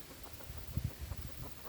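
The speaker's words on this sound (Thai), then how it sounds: "เป็นพันไก่ป่านะครับ" Jungle fowl breed chickens cluck softly nearby, a few short low clucks in a brief uneven cluster against faint outdoor background noise.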